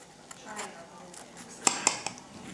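A knife cuts into a homemade apple pie in a dish, with a few faint scrapes and sharper clinks of metal against the pan, quiet and close.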